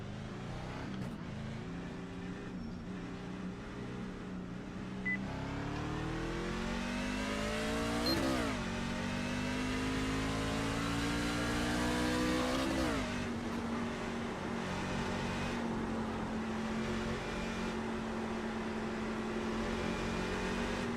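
NASCAR race car engine roaring during practice at Phoenix, a loud continuous drone that climbs in pitch through several gear changes, close and sustained with no talking.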